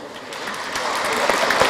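A church congregation applauds a new bishop, steady clapping from many hands swelling slightly over a short stretch, with voices murmuring beneath.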